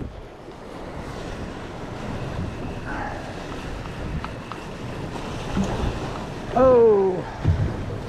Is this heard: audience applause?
no